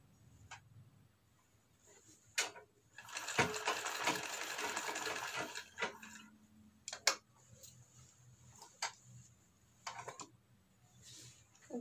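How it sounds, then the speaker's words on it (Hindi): A sewing machine stitches a back neck design, running in one sustained whirring burst of about three seconds, framed by scattered ticks and clicks of handling the fabric, fairly quiet overall. "और सब तरफ से स्टिच करेंगे।"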